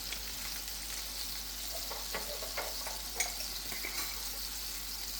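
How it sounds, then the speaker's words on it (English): Sauvignon Blanc wine simmering and reducing in a deglazed pan for shrimp meridionale, a constant soft bubbling hiss with scattered faint clicks and small utensil taps, no voices. "Deglazing a pan with some Sauvignon Blanc wine. Let it simmer and reduce."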